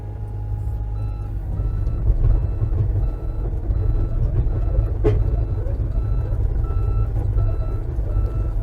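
A miniature excavator reverses with a steady low engine rumble and an insistent electronic reversing beep repeating throughout, plus a sharp clank partway through.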